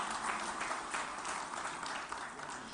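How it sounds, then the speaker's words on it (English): Audience applause for a minister at a trade exhibition launch event, a dense, even wash of clapping heard from a distance. "once a big round of applause for him"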